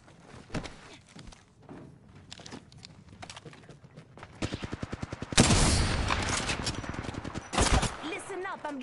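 PS4 video game gunfire: rapid automatic bursts and single shots, building to a loud sustained volley of fire midway, with heavy impacts layered in.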